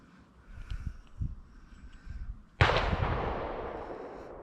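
Gunshots ring out from a nearby gun club: low muffled thuds, then one sharp loud report that echoes and fades slowly across open ground, with no talking.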